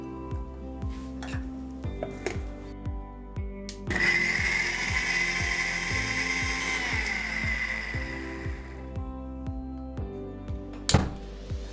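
A mixer grinder blends onions, tomatoes, ginger and garlic in a loud, steady whirring burst of about five seconds, set between scattered kitchen clinks and knocks.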